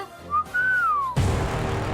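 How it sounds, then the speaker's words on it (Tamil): A person whistles a short rising and falling tune, loud and close, ending abruptly as a burst of broader noise takes over. "ஓ, நீதான் விசில் அடிப்பியா? எனக்கு அடிக்க தெரியாதா?"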